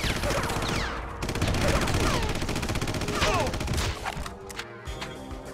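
Rapid assault rifle gunfire from the video game Red Faction, dense bursts of shots filling the whole stretch with a few sharp breaks, loud and close amid game effects, with a voice talking over it.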